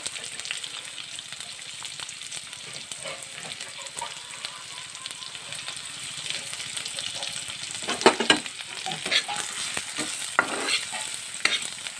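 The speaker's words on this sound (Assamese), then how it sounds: "তাৰপিছত মই কটা পিঁয়াজখিনি তেলত দি দিছোঁ" Chopped onions sizzle and crackle in hot oil, stirred now and then, the frying growing louder and busier toward the end.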